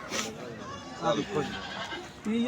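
A goat bleats in short wavering calls amid the bustle of a goat market, heard close and clear, with people talking over and around the cries.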